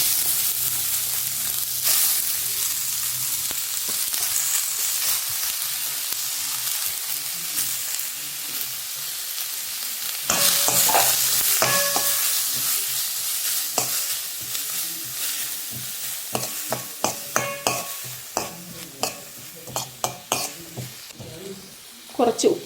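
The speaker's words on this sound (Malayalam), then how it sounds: "ഇനി നമ്മൾ അരിഞ്ഞു മാറ്റി വെച്ചിരുന്ന സവാള ചേർത്ത് കൊടുക്കാം." Chopped onions hit hot oil in a pan and fry with a loud, steady sizzle that jumps sharply when they go in, with intermittent stirring clinks and scrapes against the pan; no talking.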